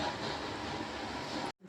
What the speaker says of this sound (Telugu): ఇప్పుడు టమాటాలు కూడా వేసుకొని మిక్సీ పట్టుకుందాం.